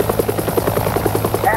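A helicopter's rotor chops in a fast, regular pulse, loud and close with a droning engine beneath, lasting only a moment.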